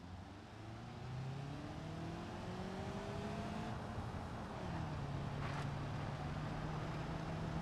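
A car in the BeamNG.drive driving game accelerates steadily, its engine note climbing through several gear changes in rising harmonic sweeps, loud and continuous with no talk over it.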